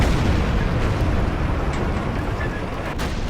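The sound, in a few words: rocket artillery explosions in video game Battlefield Yugoslavia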